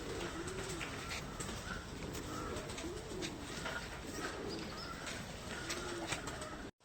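Young racing pigeons cooing in a loft, soft rolling coos repeating steadily at close range over a constant hiss of background noise.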